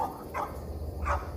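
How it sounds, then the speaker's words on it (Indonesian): Several dogs bark in a sudden burst within an eerie horror tale set in Bali, two or three sharp barks rising over a low rumbling background, moderately close and fairly loud, with no talking. "tiba-tiba banyak anjing yang pada menggonggong."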